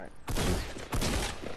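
Rapid automatic gunfire bursts in the Fortnite video game, 2017 era, two loud sustained volleys close together filling most of the moment, with game noise between them.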